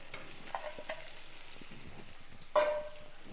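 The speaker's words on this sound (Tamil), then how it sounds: "நம்ம வெண்டைக்காயும் போட்டு சேர்த்து வதக்கும்போது இன்னும் நல்லா வதங்கிடும்." Onion and cut okra sautéing in a pan for a stir-fried okra dish, a soft steady sizzle with a few scraping stirs and a louder burst of frying near the end.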